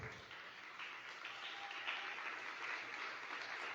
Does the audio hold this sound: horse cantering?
no